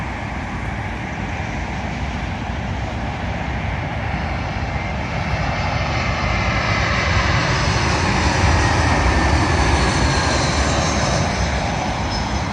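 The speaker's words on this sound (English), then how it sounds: "Arriving in now is a British Airways Airbus A320" A British Airways Airbus A320 arriving at London Heathrow runway 27L roars overhead with a loud, continuous jet-engine rush that swells slightly toward the end, with no voices.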